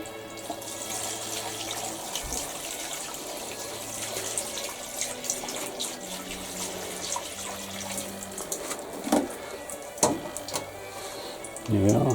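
Water poured from a tap or can into a tiered planter trough, a continuous trickling splash at close range with a few louder splashes near the end.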